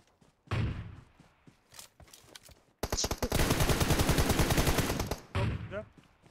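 Gunfire in the mobile battle royale game PUBG Mobile: scattered single shots come first, then a long, loud rapid automatic burst lasting about two seconds, followed by a few more shots, with someone talking in between.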